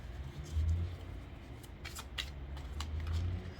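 Tarot cards being shuffled by hand, with quiet riffling bursts and papery flicks that come in short clusters, close up over a soft background hum.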